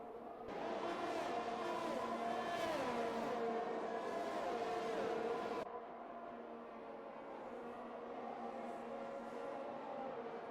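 Race cars on the Bahrain circuit in a racing video game whine past with rising and falling engine notes. The roar is louder at first, then settles into a steadier distant drone.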